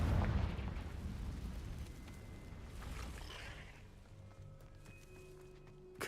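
Confringo explosion spell in Hogwarts Legacy: a deep booming blast that rolls away into fading crackles and debris, then settles into quieter ambience.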